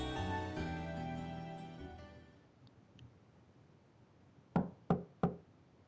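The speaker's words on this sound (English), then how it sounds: "Knock and enter." In The Legend of Heroes: Trails of Cold Steel, three quick, crisp knocks on a door sound after background music fades out, evenly spaced and alone.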